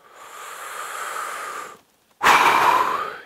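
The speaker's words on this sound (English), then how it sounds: "when we exhale, we're just going to simply blow that MerKaba field right out around the physical body." A slow, steady breath drawn in, a brief pause, then a strong, close breath blown out through the mouth, as in a guided meditation breathing exercise.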